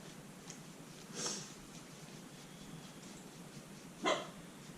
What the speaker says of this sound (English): Do you guys hear my dog barking?